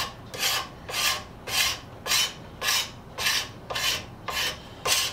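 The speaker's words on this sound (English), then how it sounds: "using this scraper, this seems to work really, really well." Steady rhythmic scraping of a hand scraper across the wood of a wedge or handle for an antique Buhl hatchet, about ten even strokes in a row, close and unaccompanied by talk.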